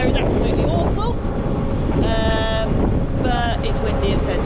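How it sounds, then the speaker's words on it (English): Strong wind buffets an outdoor microphone on a windy day, a loud continuous rumbling roar throughout, with a voice briefly audible beneath it. "but it's windy instead"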